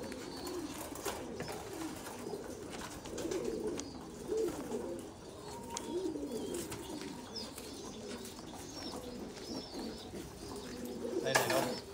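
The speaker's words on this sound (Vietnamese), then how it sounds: "con chim bồ câu mái nhá" A female Thai Titan pigeon coos in repeated low, rolling phrases close by, with a few soft wing flaps and someone talking quietly at times.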